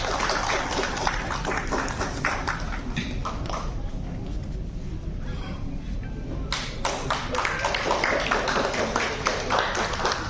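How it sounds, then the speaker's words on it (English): Audience applause at a Delhi gathering on India–Africa friendship, a dense, steady roar of many hands clapping that stays loud and continuous throughout. "Please give them a round of applause."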